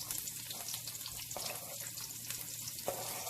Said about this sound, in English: I'm going to put some onions in here as well